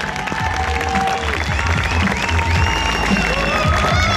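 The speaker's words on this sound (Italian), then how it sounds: "Un applauso, signori, ancora," Applause from a crowd at the 2018 Muja Buskers Festival, a street artists' festival, steady and fairly loud throughout with some cheering and whistles mixed in.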